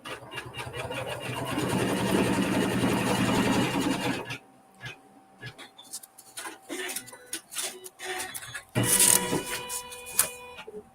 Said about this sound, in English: We're going to stitch a seam.